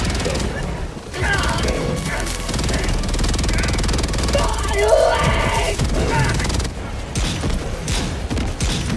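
Dense, sustained mechanical firing in Helldivers 2 as a vehicle's machine gun chatters continuously with heavier rocket thumps mixed in, loud and close with no pauses.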